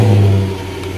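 A 2006 Toyota Tundra pickup engine, stock exhaust before a glass pack is fitted, giving a loud close rev that quickly settles back down, heard alone in the cold outdoors.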